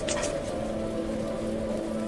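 Steady soft rain falling in a children's story, a faint continuous patter under a low hum, with no voices.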